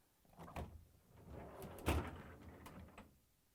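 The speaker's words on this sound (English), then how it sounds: "To get to the part, we need to open the freezer door." LG/Kenmore refrigerator freezer door being opened, a quiet soft clunk, a brief rustle and a firmer thud, close and faint.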